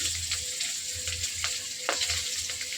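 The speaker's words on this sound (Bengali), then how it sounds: "তারপর কড়াইতে একটু কালো জিরে ফোড়ন দিলাম, তারপর একটু কাঁচা লঙ্কা ফোড়ন দিলাম" Nigella seeds and green chili hit hot oil in a kadai, giving a close, continuous crackling sizzle with small spits and pops and no voices.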